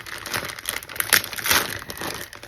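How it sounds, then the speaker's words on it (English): A thin plastic bag from an op shop crinkles and crackles as it is handled and pulled open. The rustling comes in close, loud, irregular bursts with sharp crisp peaks and no talking. "You're not really meant to open these plastic bags at the op shop."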